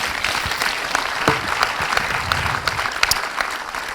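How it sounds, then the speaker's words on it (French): An audience at the close of a round-table discussion applauds in a full, sustained burst of clapping, close and dense with scattered sharper claps. "vous pouvez applaudir, hein, ne vous privez pas"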